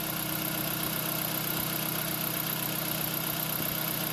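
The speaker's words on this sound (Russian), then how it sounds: "Работа двигателя на холостом ходу." Close and steady, a 2010 Hyundai i20's 1.4 G4FA petrol engine idles with an even, continuous hum and faint mechanical ticking, no voices present.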